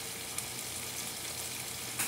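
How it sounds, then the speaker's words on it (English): Shrimp for shrimp scampi sizzle in a hot pan, a steady, soft frying hiss running throughout with a couple of faint pops. "you can really hear the sizzle"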